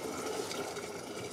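Continuous rushing of drinking water pouring and filling a container in Ukraine, steady and fairly close throughout.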